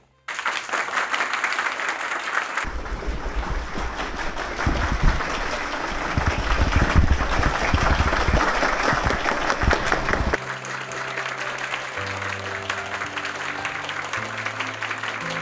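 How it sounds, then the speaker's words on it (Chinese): An audience claps warmly to welcome award presenters at a military merit ceremony in a PLA camp at Spring Festival. Dense, steady applause builds and holds, then stops, and tonal music carries on alone. "大家掌声欢迎"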